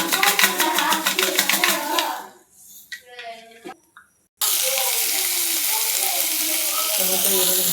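Chana dal and mustard seeds sizzle in hot oil, a steady loud frying hiss that breaks off into quiet clinks partway through, then returns as an even, continuous sizzle.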